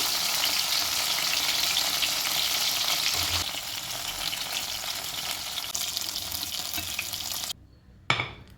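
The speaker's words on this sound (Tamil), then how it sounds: "ஸோ ஃப்ரைங் பேனில் செய்யக்கூடிய பன்னீர் டிக்கா ரெடி ஆகிடுச்சு" Paneer tikka sizzles steadily in a frying pan, a loud continuous crackle that softens slightly partway through before cutting out near the end, followed by a brief clatter.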